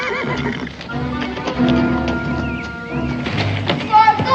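A horse neighs loudly and close by, whinnying in several bursts while its hooves thud and clop, with people shouting over it in a tense outdoor scene from a 1969 western drama.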